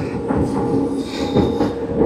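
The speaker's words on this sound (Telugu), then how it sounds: "అలా మన ట్రైన్ స్టార్ట్ అయిపోయింది మా." A passenger train rolls across the New Pamban Bridge, a loud, close steady rumble with rhythmic wheel clatter and faint squeals, no talk.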